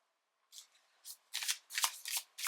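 A Mystic Forest Oracle card deck is shuffled up close, giving a series of quick crisp riffling bursts after a short silence, with no voices.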